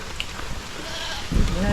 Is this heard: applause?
no